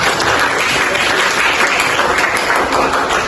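Steady, dense applause from a large crowd clapping together, sustained and loud throughout with no voices standing out.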